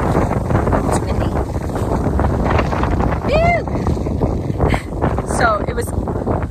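Strong wind buffets the microphone outdoors on a sheep farm, a loud, continuous rumbling roar throughout, with a few faint bird calls in the background.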